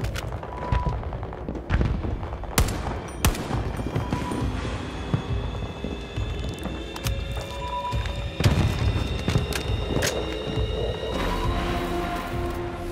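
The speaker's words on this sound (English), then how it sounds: "I'm just shooting the hell out of them" Repeated video game gunfire crackles and booms in irregular bursts, some shots sharp and close, others dull thuds, over a steady busy game soundscape with no talking.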